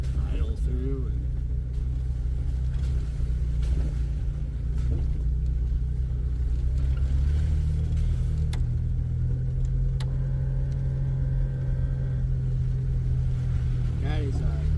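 A 2001 Jeep TJ idling through muddy water, its engine a steady, heavy low rumble with faint sloshing, close and constant throughout.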